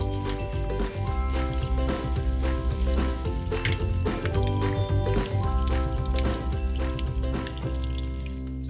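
Pork sizzles and spatters in hot oil in a pan, a dense steady crackle with small pops throughout, fairly loud and alone.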